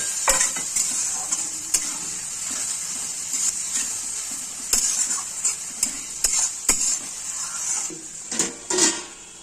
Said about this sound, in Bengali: এবার আমি আলুগুলো দিয়ে দিচ্ছি হালকা করে জল দিয়ে দিলাম মশলাটার সঙ্গে